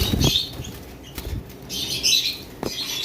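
Pet pineapple conures in a cage flap their wings in short rustling bursts with a few faint chirps, close and fairly loud against a quiet room.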